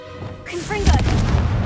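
A Confringo fire spell explodes in the Hogwarts Legacy video game near a castle wall, a sudden loud boom with a crackling fiery burst and rumbling tail, preceded by brief magical chiming and a voice.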